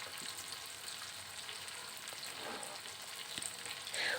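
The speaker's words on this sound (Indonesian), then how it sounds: "saya mau ngangkatin dulu tahu yang tadi saya goreng nih Bunda." Tofu frying in hot oil, a steady close sizzle and crackle throughout with a few louder pops near the end, suggesting pieces being stirred and lifted from the pan.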